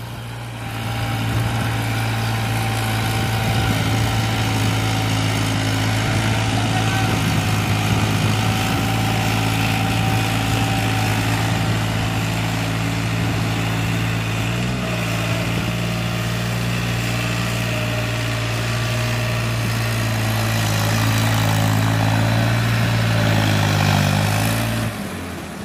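An Eicher 551 tractor engine idles steadily and close by, a loud, continuous droning hum that barely changes for the full length, with no one talking over it.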